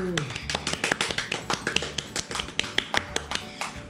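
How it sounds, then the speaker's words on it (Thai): A small group claps by hand at a Thai rhinoceros beetle fight, a quick uneven run of sharp, close claps over about four seconds, with a voice speaking alongside. "ปรบมือ"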